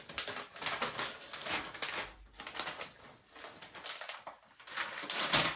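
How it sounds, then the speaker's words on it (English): Crinkly plastic and paper wrapping being pulled off a new MacBook Pro M3 Max laptop, a close, busy run of rustling and crackling bursts with brief pauses and no speech. "Unwrap this thing."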